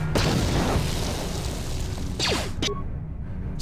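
Grenade exploding in the video game Star Wars KOTOR: a heavy boom with a rushing burst, then sharp crackling hits and a falling whoosh near the end, loud and close with no talking.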